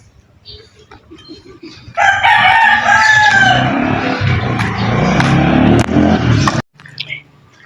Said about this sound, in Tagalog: Buti hindi nawawalay ang mga manok na yan.